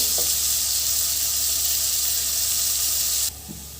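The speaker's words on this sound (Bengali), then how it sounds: "আমি এটা এখন ব্রাউন ব্রাউন করে ভেজে নেব পেঁয়াজটাকে" Sliced onions fry in oil as they brown for a magur fish curry, giving a steady, close, loud sizzling hiss that cuts off abruptly near the end.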